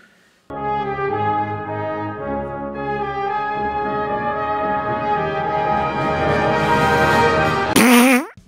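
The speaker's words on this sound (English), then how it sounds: "Jurassic farts." A long, sustained fart sound effect with a buzzing, tonal quality runs loud and steady for about eight seconds, then rises sharply in pitch at the very end and cuts off.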